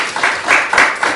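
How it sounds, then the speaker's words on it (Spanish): Students in a math classroom clap for a classmate, a brief burst of loud, close clapping lasting about a second. "Brindémosle un aplauso a Patricia"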